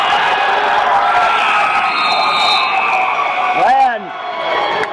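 A loud, steady roar of cheering from the crowd fills a high school wrestling dual meet, Marysville hosting Liberty, as a period ends, with a brief buzzer-like tone cutting through near the end.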